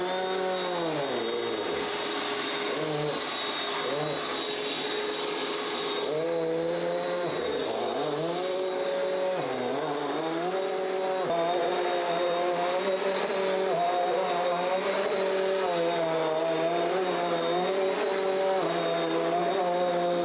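A Bissell Cleanview Compact vacuum cleaner runs steadily while picking up Rice Krispies from a rug, its loud motor whine holding for the whole stretch and dipping briefly in pitch as it crosses the debris.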